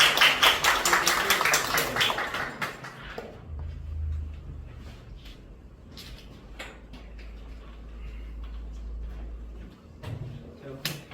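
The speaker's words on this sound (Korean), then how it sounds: "박수로 부탁드립니다" A lecture audience claps for a guest speaker, a semiconductor entrepreneur and association chairman, with a dense burst of many hands for about three seconds that then thins into quiet room noise and scattered small knocks.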